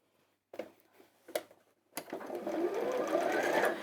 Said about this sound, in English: So I'll fold that over twice and top stitch it to hem.